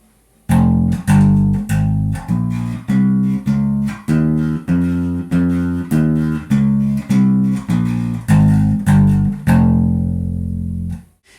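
An F natural minor scale is played on bass with a metal tone, about fourteen evenly paced, loud, sustained notes stepping through the scale, the last one ringing out alone.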